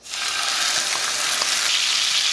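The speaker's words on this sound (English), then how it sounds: "To your pan, you wanna add your tomatoes," Tomatoes hit hot oil in a medium-hot pan and burst into a loud, continuous sizzle that holds steady, with faint crackles and no voices.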